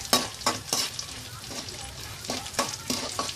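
Crushed garlic frying in oil over a low flame for avalakki, stirred with a spoon: a soft, steady sizzle with repeated scraping strokes against the pan, close up.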